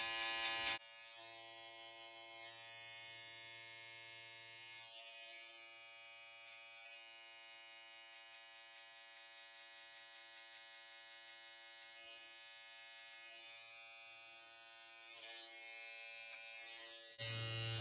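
Andis electric hair clippers buzz steadily while trimming up and around a boy's ears, a close, continuous hum that dips and shifts slightly as the blades move.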